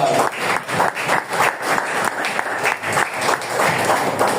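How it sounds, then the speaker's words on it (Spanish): A church congregation claps for Christ during a sermon, loud and rhythmic, with some hands beating in unison and a faint murmur of voices underneath. "Dale palmas a Cristo"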